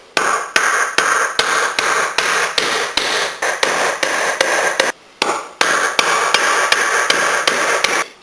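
A hammer drives a wooden wedge into an ash-branch hoe handle with about eighteen sharp, evenly spaced blows, close and loud, with a brief pause midway and no talking.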